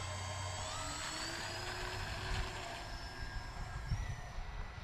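A Dynam Grand Cruiser V2 RC plane on a 3s battery flies with a steady electric motor whine and drifting tonal hum, fairly faint and distant, holding an even level with slight swells and no voices.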